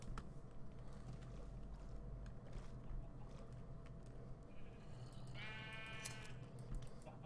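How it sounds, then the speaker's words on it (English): A faint sheep bleat wavers briefly from a video game farm, set against a quiet, steady background hum with no talking. "when we do make the coloured sheep wool farm, it's going to be easy to get all the sheep"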